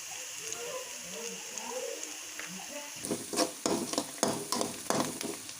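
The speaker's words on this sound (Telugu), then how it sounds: "కరివేపాకు కొంచెం ఫ్రై అవ్వనివ్వాలి ఫ్రై అయిపోయాయండి" Curry leaves frying in oil for Karnataka-style puffed-rice pakodi, a faint sizzle at first, then brisk spatula scraping and clinks against the pan grow louder and more rhythmic toward the end.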